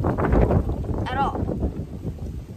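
Gusty wind buffets the microphone with a low, rumbling roar throughout, under a person talking outdoors in freezing, snowy weather.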